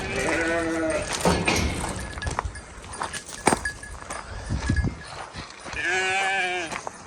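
A lamb bleats loudly at the start and again near the end, with shuffling, thumps and rustling in between; no talking.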